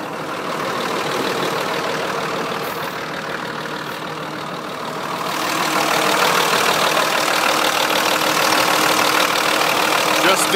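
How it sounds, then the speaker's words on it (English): Diesel engine of a Manitex crane truck running at idle, a steady mid-pitched rumble with a knocking texture that grows louder partway through as it is heard from closer, continuous and alone. "Show you the engine."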